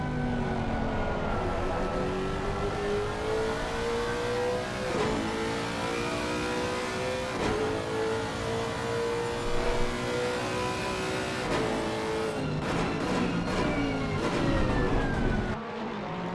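A Ferrari race car engine in a sim racing game at Indianapolis, loud and sustained, revving up through the gears with rising pitch and sharp shift breaks, then a burst of downshifts near the end.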